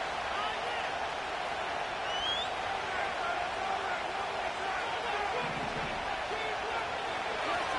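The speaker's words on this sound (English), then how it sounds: "Work to do here with a crowd at fever pitch." Stadium crowd in the Madden NFL 25 football video game, a constant roar of fans at fever pitch late in a close game, a broad steady wash of noise throughout.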